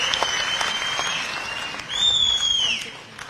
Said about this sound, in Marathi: आपण जोरदार टाळ्या वाजून त्यांचं मनापासून अभिनंदन आणि कौतुक करू